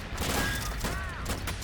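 Cannon fire in the Army Men: Plastic Wars video game: dense, loud battle noise with overlapping blasts and crackling shots that run without a break through the moment.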